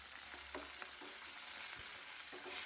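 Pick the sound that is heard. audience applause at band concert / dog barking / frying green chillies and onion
frying green chillies and onion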